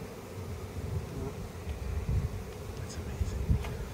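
A honeybee swarm hums with a low, continuous buzz as it is gathered up, while people talk nearby over the droning insects.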